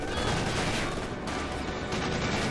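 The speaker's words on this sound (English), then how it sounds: "Dishka firing away, hitting the MG42" Dense, continuous gunfire from a DShK heavy machine gun in the Company of Heroes 2 war game, a loud sustained rattle within noisy battle sound that blends into a steady roar.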